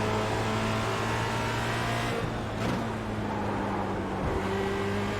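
Formula Renault 2.0 race car engine in the iRacing sim, a steady droning whine held at high revs with a brief dip and a gearshift blip, loud and continuous with no talking.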